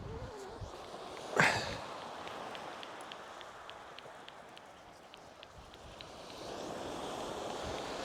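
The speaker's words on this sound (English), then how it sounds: "That wind is really strong." Strong wind gusts across Selsey West Beach on the English coast, a broad steady rushing roar with surf beneath and a brief loud buffet against the microphone early on.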